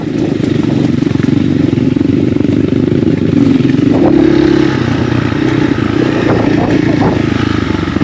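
A motorcycle rides along a freshly cut rough dirt road marked with tractor tracks in Aguilar, Pangasinan, its engine droning loud and close throughout, with occasional clatter and scraping from the uneven surface.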